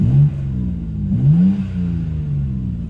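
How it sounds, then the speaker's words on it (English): A 2024 BMW M2 Coupe revs with its exhaust valves open, giving a close, deep, throaty engine note that rises in two short surges and settles into a steady rumble with no talk over it. "M2 will open your exhaust and make it a bit beefier"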